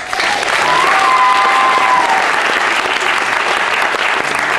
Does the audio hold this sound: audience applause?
yes